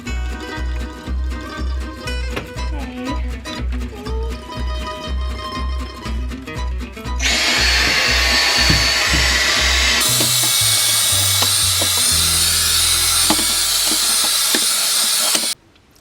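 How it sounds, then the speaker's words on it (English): A Dyson vacuum cleaner sucks up years of built-up dust in a bedroom, its loud steady whine starting partway through after rhythmic background music and continuing strongly until it cuts off abruptly. "I'm gonna get the Dyson."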